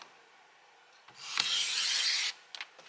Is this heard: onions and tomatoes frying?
no